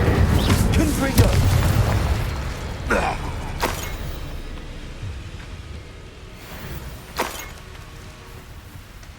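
Spell blasts from the Confringo fire spell in Hogwarts Legacy go off as several booming explosions spaced a few seconds apart, with game sounds and a voice talking in between.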